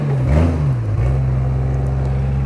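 A full-size Toyota Tundra pickup driving off-road on Signal Peak Trail, its engine giving a low steady rumble that swells briefly then settles into a constant drone, close by with no talk.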